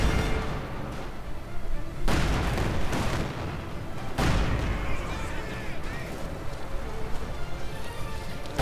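Tank and artillery fire during a Company of Heroes 2 match in a blizzard: heavy booming blasts and crackling gunfire rumble continuously, with two especially loud impacts standing out over a dense battle din.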